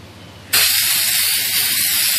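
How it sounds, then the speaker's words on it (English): A spray can lightly misting frosted glass coating onto decor, a steady close hiss that starts abruptly and runs evenly without pause. "And now I'm just going to spray lightly"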